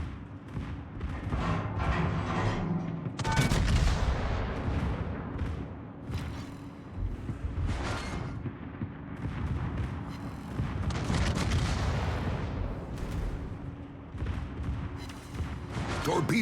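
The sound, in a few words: warship gunfire in naval video game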